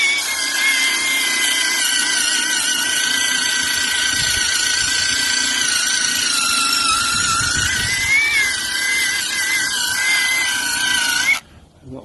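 A cheap cordless drill spinning a cleaning brush head whines steadily close by, scrubbing with soapy water on a driveway, its pitch dipping slightly under load before it cuts off near the end.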